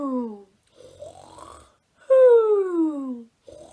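A storyteller's voice imitates a big dinosaur snore at a preschool storytime: a few loud, drawn-out, falling vocal groans with breathy rasps, separated by short pauses.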